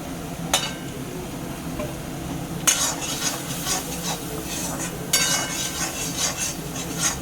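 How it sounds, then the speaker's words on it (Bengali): Ground coriander, cumin and Kashmiri chili powder sauté in oil in a pan, with a steady soft sizzle and three sharp scraping strokes of a spoon against the pot at even intervals. "মশলাটা আবার একটুখানি কষবে, মাখা মাখা হবে"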